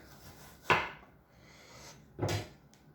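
Two crisp knife cuts through an onion on a board, each a sudden crunchy chop followed by a short fading scrape, spaced well apart, close and clear with no talk.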